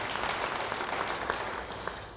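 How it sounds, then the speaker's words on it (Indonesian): A church congregation applauds during an Indonesian sermon, a dense, continuous wash of clapping hands at moderate loudness throughout. "Beri tepuk tangan bagi dia."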